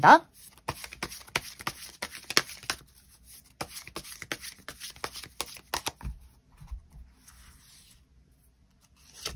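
Tarot cards are shuffled in quick bursts of crisp riffling and slapping at close range, then the shuffling thins into softer handling while a voice speaks.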